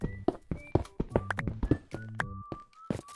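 A black horse in the Minecraft Pocket Edition video game: a rapid run of hollow, blocky clip-clop taps and thunks, close and rhythmic, with short tonal game sounds woven between the hoofbeats.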